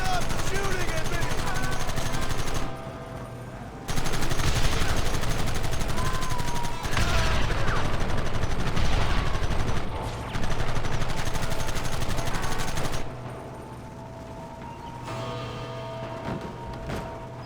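Gunfire in the Western game Red Dead Redemption, bursts of rapid shooting in long loud stretches broken by brief quieter gaps, with shouting voices mixed into the chaotic battle noise.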